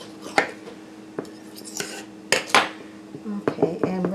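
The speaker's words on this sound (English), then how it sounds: "Let me grab a little bit of a knife and cut off some of the excess I've got." A knife trims excess pie crust in a baking dish for a blackberry cobbler, giving several sharp clinks and scrapes of metal against the dish with short pauses between them.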